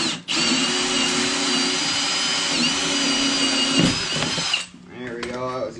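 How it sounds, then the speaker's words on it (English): A power drill whirs steadily for several seconds at close range while drilling a hole in a large cooler, then winds down and stops, followed by brief voices. "we're going to drill our second hole right there"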